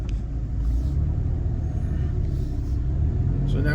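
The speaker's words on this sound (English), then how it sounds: "So now we're driving through the neighborhood." A car drives through a residential neighborhood in Wayzata, Minnesota, with a steady, loud low engine and road rumble that holds throughout at close range.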